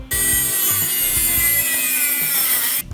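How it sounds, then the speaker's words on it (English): A Dremel rotary tool fitted with a cutting disc cuts through something during a toilet installation, a steady, loud, high-pitched grinding whine that runs without a break for about three seconds. "So, it's gonna be Dremel cutting disc, just gonna cut it off."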